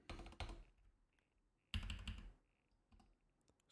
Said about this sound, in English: sorry that my keyboard's super loud